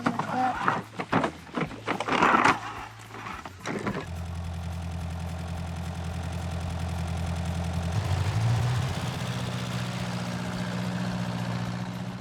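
A farm tractor's engine idles steadily and close by with a deep, even drone, settling in after some brief clatter and handling noises at the start, with no talking.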